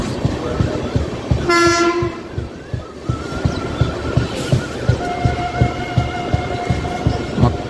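Vikrama Simhapuri Amaravathi Super Fast Express pulling into Ongole station: a short, loud horn blast rises over steady rolling rumble and rhythmic wheel thumps, followed by lingering tonal hums as the train moves on.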